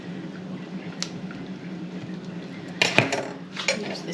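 A knife poking and clinking against cooked potatoes in a pot of broccoli and cheese soup, quiet background hiss with a few sharp metallic taps near the end.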